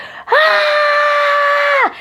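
A sustained primal scream let rip with full force, a single loud unbroken vocal cry of about one and a half seconds, steady in pitch and loudness before cutting off sharply.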